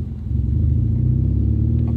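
A car engine rumbles steadily up close through a worrying exhaust, with deep low throb and slight revving swells, heard alone without talk.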